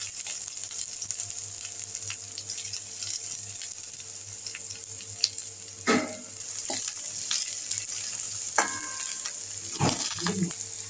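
Curry leaves and onions frying in a pan for a paneer stuffed chapatti filling, a steady close sizzle with a few bursts of stirring and clatter, no talking.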